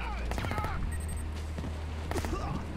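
Gunfire in the video game Project I.G.I., with a few sharp, loud shot bursts in quick succession near the start and again toward the end, over a steady low game background hum.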